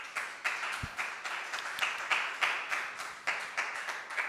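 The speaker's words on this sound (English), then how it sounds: "Please, can we give Ventali an applause," An audience at a zk-VM conference talk claps together. The applause comes as a steady, moderately loud patter of many hands, with small rhythmic swells, for several seconds.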